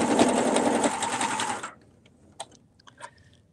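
A sewing machine stitches a ribbed knit neckband in a fast, loud, steady run for about a second and a half, then stops, leaving a few faint clicks and handling sounds.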